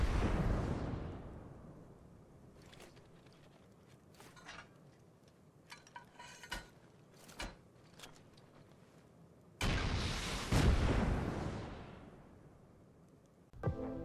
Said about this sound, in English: rockets are going to sound much more badass